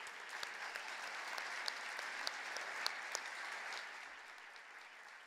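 A plenary audience at a 2015 palliative care congress applauds together, a steady, full wash of clapping with a few sharp louder claps, tapering slightly toward the end.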